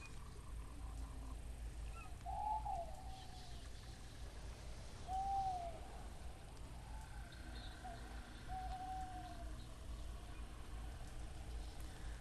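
An owl hoots in the Second Life video game on a haunted island: three or four soft, separate calls spaced a few seconds apart over a low, steady ambient drone.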